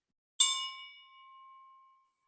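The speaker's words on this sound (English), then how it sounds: "We ring our gong 3 times." A gong struck once during a congregational service, giving a bright metallic ding that rings out with a long, clear sustained tone fading over about a second and a half, heard alone in a quiet room.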